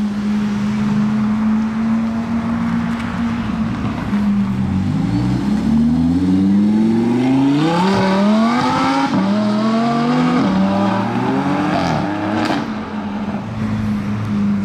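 First-generation Lamborghini Aventador revving hard at a car gathering, a loud, close engine drone that climbs and drops repeatedly in rising sweeps over the second half.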